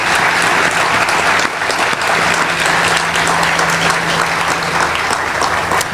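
Audience applause at a grand opening ceremony for an affordable housing development, a loud, dense clapping from a large crowd that continues steadily throughout.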